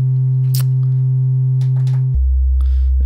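An Arturia MiniBrute 2 synthesizer plays a steady, pure sine-wave oscillator tone that drops to a lower pitch partway through, with faint clicks of knob handling above it.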